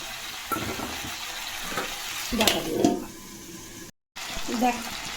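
A curry of small puti fish with ginger, cumin and turmeric is stirred in a sizzling pan. Steady frying hiss with scraping stir strokes and a brief dropout near the end.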